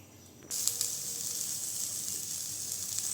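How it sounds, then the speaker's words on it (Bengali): Chopped potato and carrot hit hot oil in a pan and break into a steady, close sizzle that holds evenly after a brief quiet start. "এটাকে একটু ভেজে নেব"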